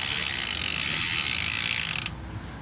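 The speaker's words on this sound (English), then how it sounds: "I like the freewheel sound or cassette sound" Bicycle freewheel cassette ratchet spinning close up, a loud, rapid, even buzzing of clicks that runs continuously and then cuts off abruptly near the end, leaving quiet background; no speech.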